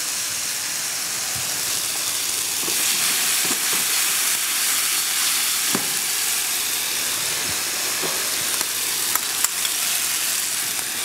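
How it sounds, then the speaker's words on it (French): Mushrooms searing in a hot pan in a restaurant kitchen, giving a steady, loud sizzle and hiss with occasional small pops and crackles, close and continuous with no talking. "Donc là, on va bien les laisser saisir."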